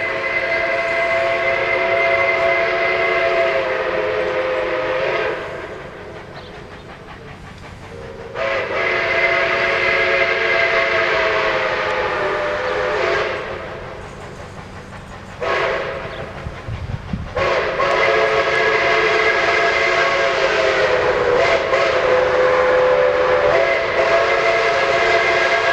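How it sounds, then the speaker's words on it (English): Steam locomotives under steam at the Indiana Northeastern Railroad maintenance facility in Hudson, Indiana, sound several long, loud whistle blasts separated by brief pauses, with train rumble continuing underneath. "4 different steam locomotives were seen under steam, all in the same place at the same time"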